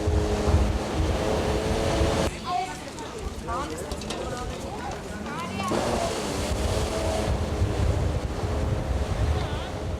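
Waves break along a beach on the largest lake in Armenia, a steady roar mixed with gusting wind buffeting the microphone, while a voice speaks over the middle stretch.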